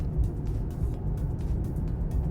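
Inside a Mercedes-AMG GT 43 4-Door with a six-cylinder petrol engine and electric motor, cruising in comfort mode: a low, even engine and road rumble with no sharp changes.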